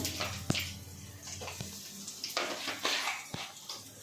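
Black cumin and asafoetida tempering in hot oil for a vegetarian taro-leaf fry, giving a soft, uneven sizzle with scattered clinks of a spoon against the pan and a few sharper taps.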